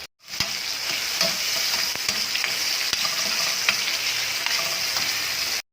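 A tomato sautéing in hot oil for pork sinigang, a dense, steady sizzle close up with occasional faint scrapes and clicks of stirring.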